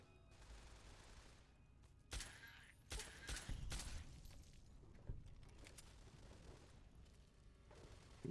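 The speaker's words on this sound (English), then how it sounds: "Gunshots around this corner." Gunfire in Fallout: Tale of Two Wastelands pops in several bursts, a few sharp loud shots clustered in the middle with quieter ones scattered around.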